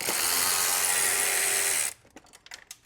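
A power driver spins out a Torx screw in the cooling system of a turbocharged BMW 335i, whirring loudly and steadily for about two seconds, then cutting off into a few light clicks and rattles.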